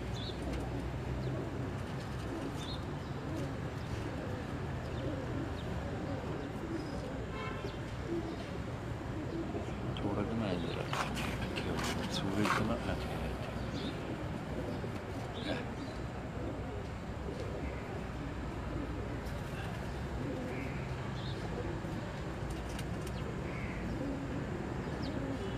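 Breeder pigeons in a loft coo softly and repeatedly, with a few other bird calls and someone talking over them the whole time.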